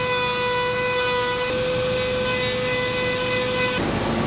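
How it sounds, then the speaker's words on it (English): A Dremel rotary tool cuts a groove into a crack in a car's paint, giving a loud, steady high-pitched whine with a gritty grinding edge that holds constant, then drops in pitch and tone near the end. "we'll just use the edge to kind of give a little bit of a groove right in that crack"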